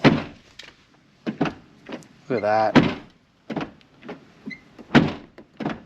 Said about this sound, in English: the door handle's in, door's open and closing